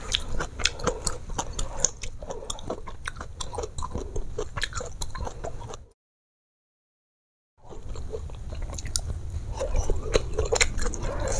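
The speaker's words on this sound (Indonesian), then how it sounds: "Enak ya makan bakso pakai daun bayam" Close, wet biting and chewing of spicy chicken meatball soup (bakso kuah pedas) with spinach leaves, steady mouth sounds with a brief silent gap midway, no talking.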